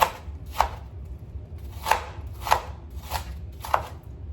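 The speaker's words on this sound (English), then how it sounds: "Turn the onion as you slice to give you nice" A knife slices through an onion on a cutting board, five or six crisp, evenly spaced chops close by, against a quiet low background hum.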